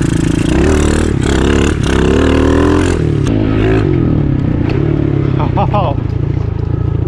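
A Honda XR50 dirt bike with an 88cc big bore kit revs hard and loud, its buzzing engine rising and falling through several throttle bursts while a voice talks over it.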